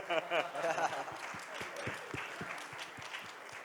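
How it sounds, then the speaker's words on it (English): Audience applause at an entrepreneurship summit following a keynote, a steady wash of clapping with a few sharper individual claps standing out, while a voice speaks briefly over the start. "I did get an applause."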